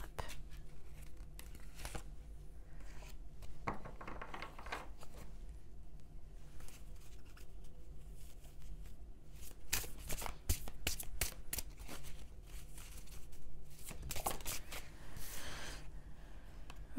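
Oracle message cards being shuffled and drawn by hand, soft riffling and papery flicks coming in short bursts close by, with quiet pauses in between.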